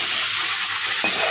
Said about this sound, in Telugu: ఆయిల్ హీట్ ఎక్కినాక చికెన్ వేసుకోవాలి